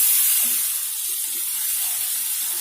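Onion paste frying in a hot pan gives a steady, close bright sizzle and hiss, continuous throughout with faint stirring bumps beneath.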